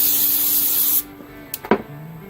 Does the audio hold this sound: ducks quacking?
no